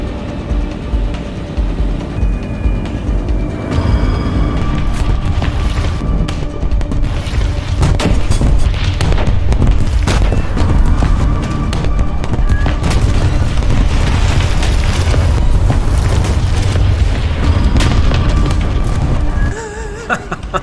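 Heavy bombs dropped by PE-8 bombers explode across a War Thunder tank battle, a dense, continuous roar of booms and blasts with gunfire layered throughout, loud and sustained before briefly thinning at the end.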